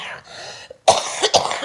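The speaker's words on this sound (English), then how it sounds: "I'm going to have to end early because I'm coughing so badly" Harsh, close coughing in a couple of quick bursts after a brief lull, from a woman with a bad cough.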